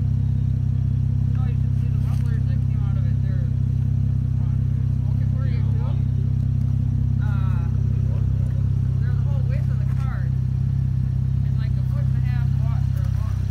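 A Cadillac CTS Coupe with straight-piped exhaust and muffler delete idles with a loud, steady, deep rumble throughout while people talk over it.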